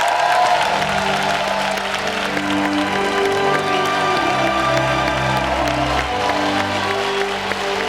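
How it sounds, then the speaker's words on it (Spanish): Studio audience applauding on a late-night talk show set, a dense steady wash of clapping mixed with musical tones, continuous and fairly loud throughout. "vamos a aplaudir ahora"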